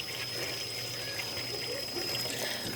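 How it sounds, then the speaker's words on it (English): Quiet running water from a tap splashes steadily while dyed rabbit tails are rinsed, a soft continuous trickle close by with no talk. "So I'm going to rinse the rest of these"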